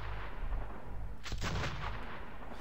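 Gunfire in the Metro 2033 video game, with a loud, booming blast over a constant rumbling background that echoes and decays, no talking.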